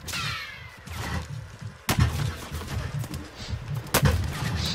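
Gunfire in a PS4 shooter, two loud, sharp, close shots about two seconds apart, with a rumble of more distant shooting and battle noise in between.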